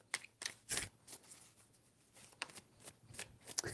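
Tarot cards are shuffled in several quick riffling bursts with short pauses between, close and fairly quiet.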